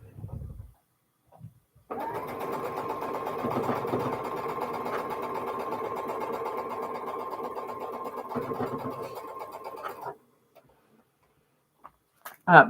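A sewing machine stitches quilt block pieces for an Elizabeth Hartman animal block in one steady, even run of about eight seconds, with brief handling clicks before and after.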